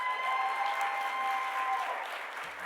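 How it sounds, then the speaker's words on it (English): Audience applause, a steady wash of clapping from a crowd, moderately distant, fading slightly at the end. "Can we really quickly give another round of applause to Jenny Song"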